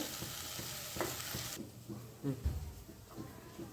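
Masala paste for fish curry gravy frying in oil, a crackling sizzle with scraping stirs at the start that quiets after about a second and a half, leaving softer spoon knocks.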